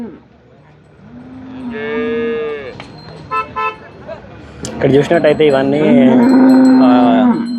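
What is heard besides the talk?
cows mooing at a cattle market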